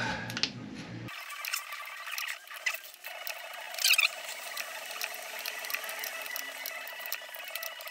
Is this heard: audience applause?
no